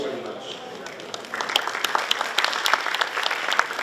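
At an Amity University event, a voice speaks briefly before the audience bursts into steady applause, a crisp sustained clatter of many hands that continues to the end.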